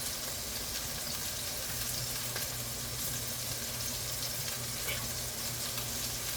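Grilled onions frying in a hot pan alongside burgers make a steady, even sizzling hiss that runs unbroken throughout, close and moderately loud with no talk.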